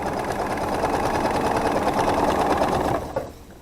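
A sewing machine stitches a quilt seam on a star block of half-square triangles, a steady close mechanical whir for about three seconds that stops abruptly, with no talk.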